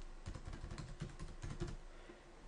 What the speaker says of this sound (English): I'm going to enter my own password here